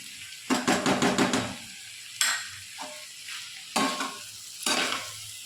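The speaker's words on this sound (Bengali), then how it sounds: "আদা বাটা 1 চামচ দিয়ে আমি ভালো করে নেড়ে চেড়ে নেব" Mixed vegetables with ginger paste are stirred in a frying pan, Bengali style: a rapid burst of scraping strokes, then separate scrapes and knocks of the utensil against the pan over a soft sizzle.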